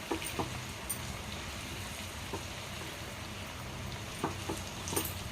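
Liver fries in a pan with a soft, steady sizzle and a few light clicks of stirring against the metal, quiet and close, with no voices.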